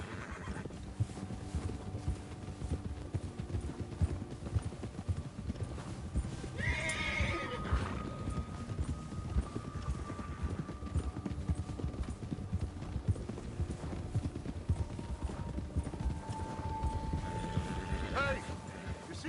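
Horse galloping in Red Dead Redemption 2, steady clip-clop hoofbeats running throughout with an occasional neigh, set under a game score and bursts of talking.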